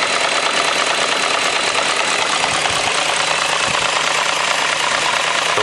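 A BMW E38 idles with a persistent engine knock after about ten minutes running on cleaning detergent during an engine flush, a steady loud mechanical rumble with faint ticking that continues without any voices.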